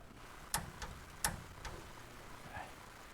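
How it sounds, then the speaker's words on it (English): A torque wrench clicks as it reaches its set clamping force in a garage. Two sharp, close clicks sound about a second apart, followed by fainter clicks over a quiet background, with no talking. "when it makes the clicking noise, that means this thing is clamping with the right amount of force"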